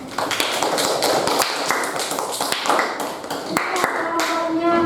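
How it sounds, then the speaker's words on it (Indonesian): Classroom applause for a student group, a burst of many hands clapping unevenly and close by, sustained for several seconds without a break. "Tepuk tangan untuk kelompoknya Cika."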